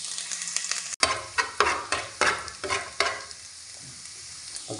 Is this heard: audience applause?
no